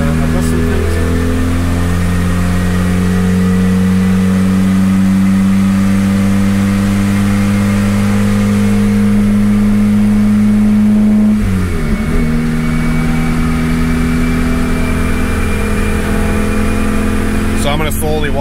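A turbocharged Honda Integra DA engine runs loud and close, holding a steady drone that dips briefly and then rises again as the throttle is slowly opened, with someone speaking over it.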